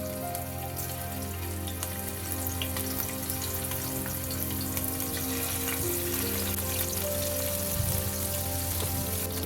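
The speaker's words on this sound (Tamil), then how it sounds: "நெய் நல்லா சூடாயிருச்சுங்க. இதுல நம்ம பன்னீர் ஒன்னொன்னா போட்டுக்கலாம்." Paneer cubes frying in hot ghee over a slow flame, a steady close sizzle and crackle running evenly throughout with no talking.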